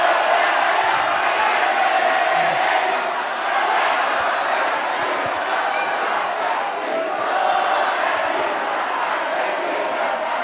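A large crowd at a televised gubernatorial candidates' debate roars with cheering, clapping and chanted shouts, a loud continuous wall of voices that swells and eases but never stops.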